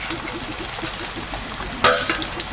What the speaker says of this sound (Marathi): परतून घेऊ कांदा तांबूस होईपर्यंत.